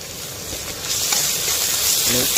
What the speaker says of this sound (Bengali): এবার আমি এখানে কোচানো রসুনটা দিয়ে দিলাম, আদাটা দিয়ে দিচ্ছি।